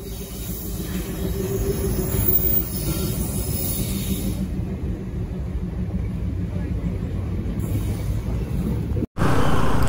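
A heavy train rumbles past nearby in fog, a loud steady roar of wheels and carriages that cuts off sharply near the end.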